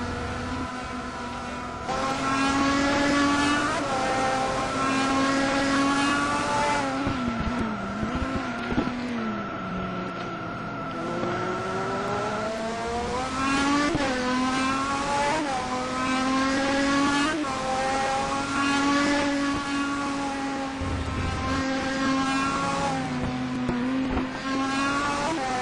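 Race cars lapping the track in the ETC Black Cup race at Curitiba: loud engines scream past one after another with rising and falling pitch sweeps, continuous and near.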